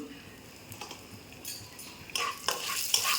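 Panch phoron spices crackle and sizzle in hot oil in a pan, a soft steady hiss rising to sharper bursts of popping near the end, with light stirring scrapes and no talk.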